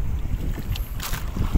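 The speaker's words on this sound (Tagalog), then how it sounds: "malakas yung hangin tapos medyo maalon" Strong wind gusts buffet the microphone over choppy sea water beside a small fishing boat at dusk, a continuous close roar with brief splashes.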